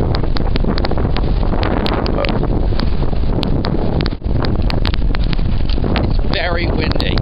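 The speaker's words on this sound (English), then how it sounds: "Very windy." Strong blizzard wind on the US East Coast roars and buffets the microphone in a loud, continuous gusting rush, with a brief dip and a voice briefly audible near the end.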